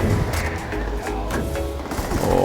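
Rapid bursts of Ashta Tamer gunfire in the Starfield video game, a dense string of punchy shots fired in quick succession, loud and close throughout the short stretch.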